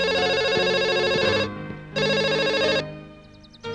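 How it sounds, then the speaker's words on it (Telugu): A telephone rings in two long electronic bursts separated by a short pause, loud and close, with the start of a third ring cut off at the end; no one speaks over it. "షాలికి ఫోన్ చేస్తాను"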